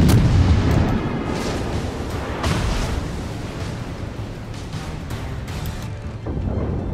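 Heavy warship gunfire in the World of Warships video game, with deep booming salvos and rumbling blasts rolling over a continuous battle roar, loud and close with no talking.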